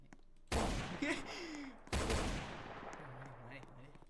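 Gunfire in a shooting video game: two loud, sharp blasts about a second and a half apart, each trailing into a dense rattle of shots and effects, with a voice faintly underneath.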